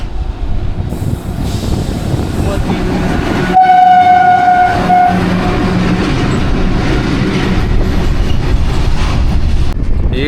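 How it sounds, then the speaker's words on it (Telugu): A goods train rolls past nearby, a loud, steady rumble of wheels and wagons with squealing, and partway through a long, clear horn blast sounds over the din; no one speaks. "ఈ గూడ్స్ బండి కోసం మన ట్రైన్ అలా ఆపేసాడు."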